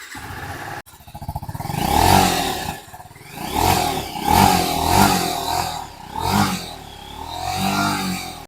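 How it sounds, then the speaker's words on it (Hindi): A 2024 TVS Apache RTR 310 motorcycle starts with a sharp crank, then its engine and exhaust rev up and down in repeated rising swells, close and loud, over a throbbing idle and with no speech. "बाइक का जो है दोस्तों एग्जॉस्ट का साउंड भी चेकआउट करते हैं। बाइक को पहले स्टार्ट करते हैं।"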